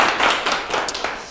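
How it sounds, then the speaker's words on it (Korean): Audience clapping during a lecture on the fourth industrial revolution and human management, a brief burst of fairly close, dense claps that fades over about a second, with no speech. "박수 한 번 더 치고."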